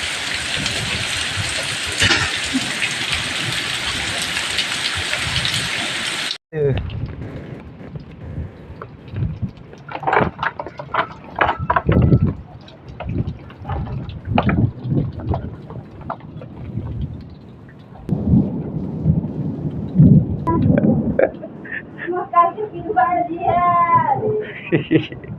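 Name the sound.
heavy rain with thunder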